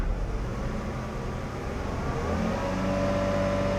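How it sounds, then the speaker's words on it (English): A car engine revs with electrical loads off during an alternator charging test, a moderate rising whirring drone that swells gradually toward the end, fairly close and without voices. "Rev engine with loads off."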